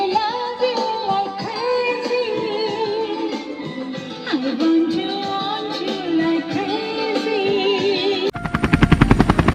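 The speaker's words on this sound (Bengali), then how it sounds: "আরে হেলিকপ্টারের আওয়াজ কোথা থেকে আসছে দেখি তো।" A helicopter sound effect cuts in near the end of a comedy short, a loud, rapid rotor chop following a stretch of tonal music.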